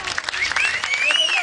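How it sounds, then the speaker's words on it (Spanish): Audience applause for a dance contestant on a televised dance competition show, a short burst of clapping blended with crowd noise and a voice speaking over it. "Quiero que le demos un aplauso enorme a la rancherita"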